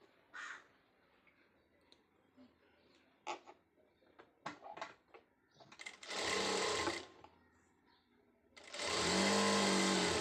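A sewing machine stitches cord for a saree blouse dori in two loud, steady bursts of whirring, close up, after scattered clicks and handling noises, while crows caw faintly in the background.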